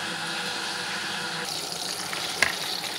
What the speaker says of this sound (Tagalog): Prito na.